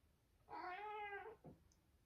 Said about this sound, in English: I have one of my cats, Jose, joining us today